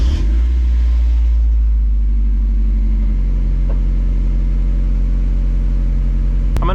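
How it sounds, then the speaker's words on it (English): A 1997 Mazda MX-5 Miata engine cranks and catches on a cold start, then settles into a loud, steady low idle rumble recorded close up. "we are gonna do a nice cold start"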